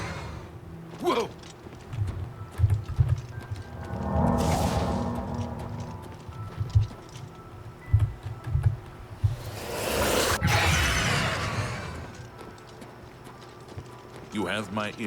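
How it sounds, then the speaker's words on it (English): Hooves clip-clop in uneven bursts on a hard surface in The Elder Scrolls IV: Oblivion Remastered, with a horse snorting and whooshing effects, while people speak over the game's ambient background. "run face first into a horse."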